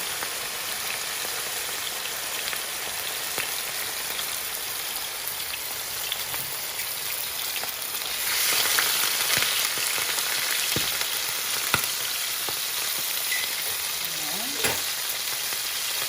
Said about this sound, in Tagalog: piprituhin muna natin yung ating chicken liver